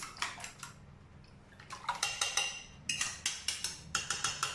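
Whisk beating eggs in a bowl for a ciambellone cake batter, a quick rhythmic run of clinking, scraping strokes in bursts with a brief pause, close and fairly loud.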